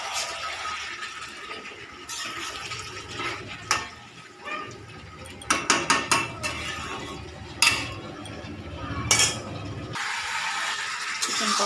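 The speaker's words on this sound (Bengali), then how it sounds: "চিকেন কষা করছি" Chicken being stirred and sautéed in a pan, with a utensil scraping and clinking against the metal over a steady sizzle, sharp clatters coming in irregular clusters.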